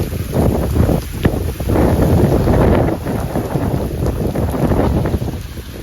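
Strong wind gusting at night outdoors near a cremation ground during rain, buffeting the microphone as a loud, continuous rumbling roar with surging swells and no voices.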